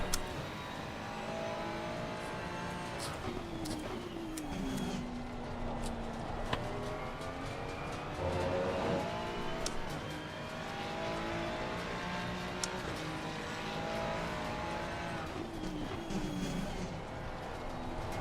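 High-revving race car engines in Assetto Corsa Competizione at Mount Panorama, the pitch rising and falling through gear shifts, with a Ferrari running just ahead; steady and moderately loud throughout.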